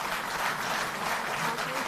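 An auditorium audience at a Delhi Jal Board staff event claps loudly and steadily throughout, a dense, even wash of applause.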